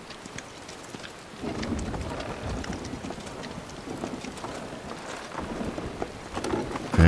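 Rainstorm in Final Fantasy VII, steady heavy rain hiss building after a quiet start, with thunder rumbling underneath and a loud crack at the very end, no voices.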